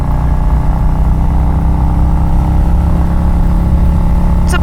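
A Harley-Davidson Road King Special motorcycle with its 107 engine rumbles steadily while riding, a loud, continuous low-pitched drone that holds throughout without a break.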